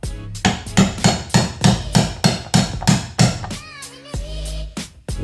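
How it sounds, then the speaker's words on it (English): Loud, sharp hammer blows knock a pin out of a Peerless Tecumseh 700-series lawn tractor transmission, about nine evenly spaced strikes followed by a few clinks and a metallic scrape, with no talking. "Now, let me get a pin. Hammer and a pin."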